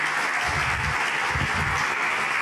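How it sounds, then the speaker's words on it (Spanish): A church congregation applauds steadily and fairly loudly for a couple of seconds, a dense wash of clapping with no talk over it. "¿Qué tal si damos un aplauso al Señor por la vida de Mateo?"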